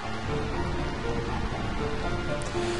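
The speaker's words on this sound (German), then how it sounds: "Welch herrlicher, mysteriöser, köstlicher Regen." Steady hiss of rain from the video game Final Fantasy IX, a continuous broadband wash with no breaks, even and fairly loud throughout.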